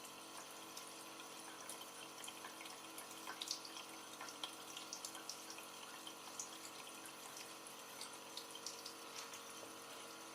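A faint, steady hum of a small water pump running, with light trickling and bubbling water over a constant mechanical drone.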